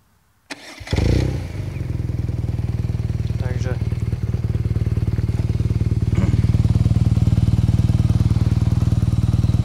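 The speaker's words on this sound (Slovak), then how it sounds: "Táto dvojkoncovka výfuku je úplne že neskutočná, napriek tomu." A 2018 BMW R nineT boxer twin with a dual-outlet exhaust starts up after a brief silence, then settles into a loud, close, steady throbbing idle with a few small throttle blips.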